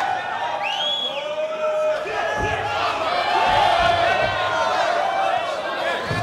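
Arena crowd at a mixed martial arts fight roars and cheers steadily throughout, a loud continuous wall of voices with whistles and shouts rising above it.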